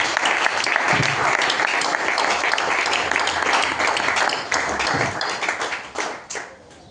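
A church congregation claps and applauds in a dense, loud burst of many hands, sustained for several seconds before tapering off toward the end.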